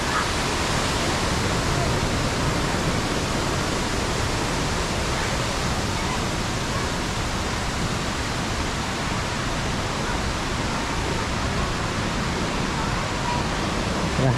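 A roadside waterfall in southern Laos, on the route from Pakxong toward Attapeu, pours in a steady, loud, broadband rush that stays even and unbroken from start to finish with no voices over it.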